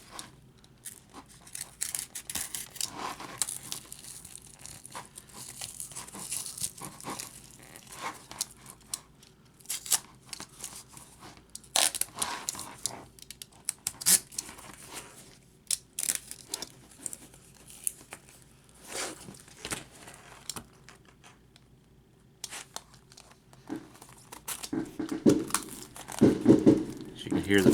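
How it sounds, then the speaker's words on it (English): Faint snipping and crinkling as stitches are cut and torn out of a sewn-together laptop keyboard, in short irregular bursts with quiet gaps, ending in a louder crunchy tearing burst. "let's get the stitches out first."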